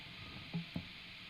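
Amid a low hiss of an otherwise silent guitar track, two soft thumps from an electric guitar being lightly touched pop out close together.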